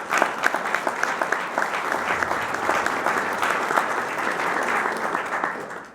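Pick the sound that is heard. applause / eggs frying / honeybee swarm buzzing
applause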